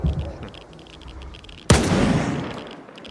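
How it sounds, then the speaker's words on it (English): A grenade explodes in Stalker 2 at the Yantar Production Complex: a single sudden heavy blast cuts through quieter ambience, followed by a loud, rumbling tail that slowly fades. "Let me throw a grenade at him."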